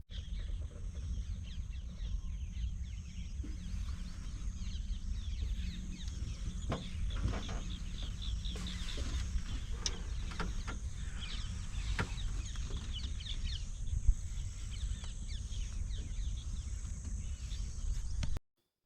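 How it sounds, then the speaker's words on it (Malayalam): Birds chattering at dusk while roosting in small trees in Rajaji National Park forest, a dense continuous chorus of calls and clucks over a low rumble, steady throughout. "പക്ഷികൾ ചേക്കേറുന്ന സമയമായതുകൊണ്ട് പക്ഷികളുടെ കലപില ശബ്ദമാണ് എവിടെയും."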